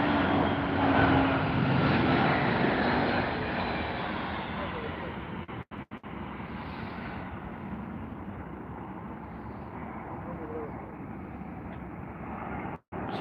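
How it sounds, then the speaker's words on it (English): A cargo plane at Heathrow Airport roars steadily with a broad, loud jet-engine rumble, gradually easing, with brief dropouts; people can be heard faintly talking beneath it. "So one cargo plane arrives"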